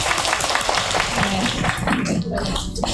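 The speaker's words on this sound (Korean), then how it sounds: "박수 한번 주십시오" An audience at a labor policy round-table meeting applauding, a steady spread of clapping heard moderately close under a voice speaking.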